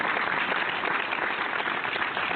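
Applause fills the room on a barbershop talk radio show, a steady, even wash of many hands clapping that runs throughout, with no talk over it.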